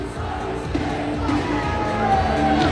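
Steady roar of a large indoor crowd cheering and shouting at a Bergamo versus Novara volleyball playoff semi-final in Italy, continuous and dense throughout.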